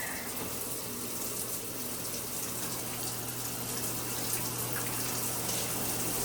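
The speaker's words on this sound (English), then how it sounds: "We are going to turn on the shower to make sure it works." An older shower head in a hotel bathroom at Twelve Oaks Inn in Branson, Missouri runs steadily, a continuous hissing spray of water with a low hum beneath, alone and unbroken throughout.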